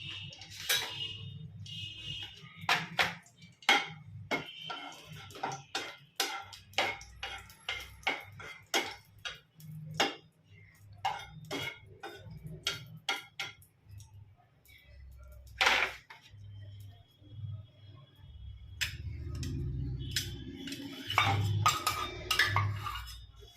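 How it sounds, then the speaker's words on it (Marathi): A spoon scrapes and clinks repeatedly against a pan as jaggery melts in oil, dozens of sharp metallic taps in an uneven rhythm with quiet gaps between, joined later by a low sizzling hiss. "गूळ चांगला मेल्ट होईपर्यंत आपल्याला सतत हलवत राहायचे आहे"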